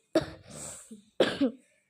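A single person gives two separate coughs about a second apart. Both are close and sharp, and the second is throatier, like throat clearing.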